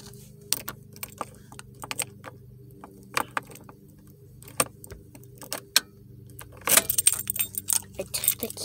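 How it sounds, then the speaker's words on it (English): Car keys jangle as they are pulled from a car's ignition, a run of scattered light metallic clinks and rattles that grows busier and louder near the end, over a low steady background hum. "I took the keys out."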